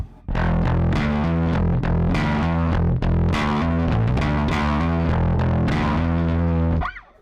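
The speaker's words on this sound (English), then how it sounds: "Now if I bring my blend control up so that I'm using all of my distorted signal" A bass guitar runs through an Ampeg Scrambler overdrive pedal set to fully distorted signal, playing a loud, continuous riff with raspy, gritty sustained notes that cut off abruptly at the end.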